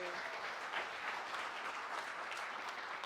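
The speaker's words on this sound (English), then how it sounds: "Give her a round of applause." Audience at an awards event claps steadily in a round of applause, a dense, even wash of hand claps lasting a few seconds with no talking over it.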